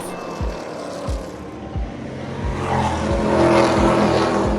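Race cars roar around a racetrack during a race, their engines a steady rumbling drone that builds gradually, with repeated low thumps as cars pass; no one speaks.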